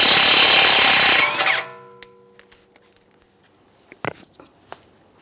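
A power tool with a 19mm socket spins the tie rod mounting nut off a 2009-2014 Nissan Maxima, a loud buzzing burst lasting over a second before cutting off, followed by scattered light clicks and knocks of metal.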